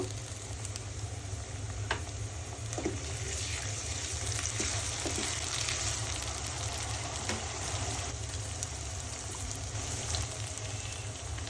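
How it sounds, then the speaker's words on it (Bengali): Ginger, cumin and garlic paste frying in a pan for a river fish curry, a steady low sizzle and crackle with occasional light clicks and clatter, moderately close, no voices. "আদা বাটা, জিরা বাটা, রসুন বাটা একটু ভালো করে ভেজে নিলাম।"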